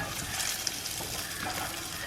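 Urad dal, cumin, mustard seeds, fenugreek and asafoetida frying in oil for mango pickle, a soft steady sizzle with light crackling, fairly quiet and close.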